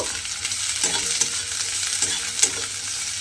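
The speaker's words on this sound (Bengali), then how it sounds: "সেই পেঁয়াজটা আমি তেলের মধ্যে দিয়ে দিলাম। দিয়ে পেঁয়াজটাকে আমি একটু ভেজে নেব।" Chopped medium-sized onion fries in hot oil, giving a continuous close sizzle broken by a regular scrape of stirring every second or so.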